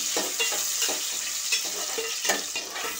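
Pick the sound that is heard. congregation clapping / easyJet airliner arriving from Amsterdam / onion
onion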